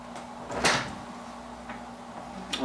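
A door opens in a home film-developing setup, giving one clear knock-like thump and rattle partway through, then a fainter click near the end over a steady low hum.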